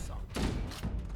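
Grenade thrown and exploding in the video game Halo CE, two short muffled blasts in quick succession with thudding low-end punch, brief and moderately loud.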